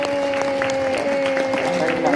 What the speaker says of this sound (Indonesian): tepuk tangan, tepuk tangan. Tepuk tangan.